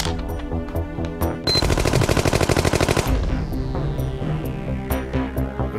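Rapid automatic machine-gun fire in the Chainsaw Warrior video game, a loud sustained burst of evenly spaced shots lasting about a second and a half, set amid other game sound effects and a fading whoosh.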